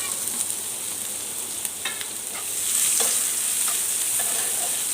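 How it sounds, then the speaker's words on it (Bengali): Chopped onion and green chilli fry together in a pan for a Bengali stir-fried brinjal dish, a close, steady sizzle that swells louder midway, with light spatula scrapes as it is stirred. "আমি পেঁয়াজ একসাথে ভেজে নেব।"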